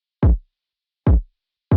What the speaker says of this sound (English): And then the kick sounds like this.